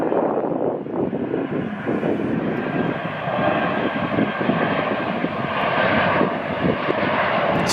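A jet airliner landing at LAX during reverse operations, heard from below airport elevation as a loud, steady engine roar with broadband rumble and wind buffeting on the microphone, sustained throughout with no talk.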